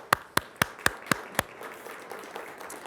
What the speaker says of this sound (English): what do you say we give all of these young men and women a round of applause?